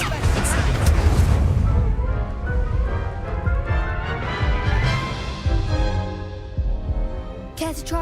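Spells cast in Hogwarts Legacy, ending on an Incendio fire spell, burst loudly and densely over a booming, crackling game soundscape, with a brief sharp flare near the end.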